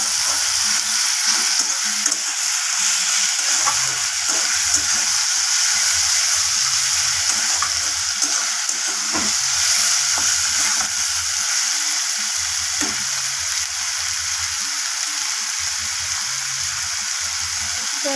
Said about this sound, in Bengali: তো টমেটোটাকেও আমি ভেজে নেব পেঁয়াজের সাথে, যতক্ষণ না টমেটোটা নরম হয়ে গলে যাচ্ছে একদম।